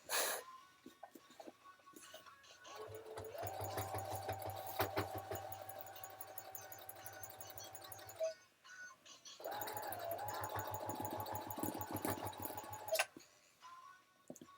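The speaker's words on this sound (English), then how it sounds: "I'm sewing my boot covers for Lucina" A sewing machine stitches boot covers in two long runs of steady, fast mechanical whirring and ticking, with short pauses between them, heard fairly close indoors.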